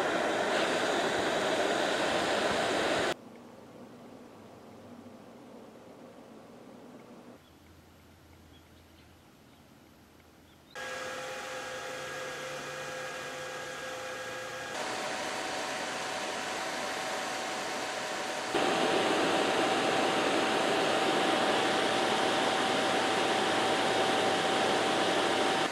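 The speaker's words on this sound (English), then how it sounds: "make your own ceramic space heater. Just the element and a computer case fan. Put them together and it cranks out the heat." A 12-volt computer case fan blowing air through a ceramic heater element runs as a steady broadband whoosh, with the level shifting in distinct steps and a faint tonal whine in some stretches.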